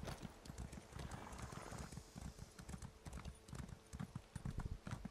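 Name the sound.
horse hooves clip-clop in a video game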